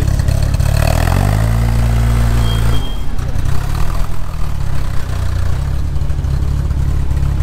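A loud, deep modern Ford engine in a Shelby Daytona Coupe replica idles then revs up and settles into a rough, throaty rumble, close by and filling the sound throughout.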